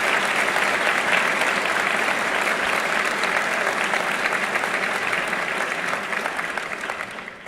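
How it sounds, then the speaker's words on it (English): A large audience claps steadily for the graduating class at a Hartford Fire Department graduation ceremony. The dense applause holds at a constant level, then thins and fades over the last second. "let's give them a round of applause for a job well done"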